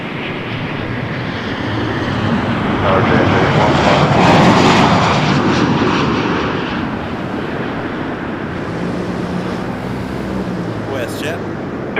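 A WestJet jet airliner in swoop livery, arriving from Edmonton, lands at Toronto Pearson. Its broad engine roar swells to a peak mid-clip, then eases off while radio voices talk over it.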